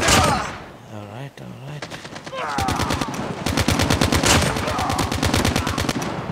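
Rapid automatic gunfire in Call of Duty Mobile, loud, close bursts of rattling shots that build into sustained fire, with a voice speaking briefly over them.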